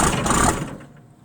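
Case IH 5140 tractor engine cranking and trying to catch on a cold start at 15°F, a loud rough rumble for about half a second that then fades away as it dies.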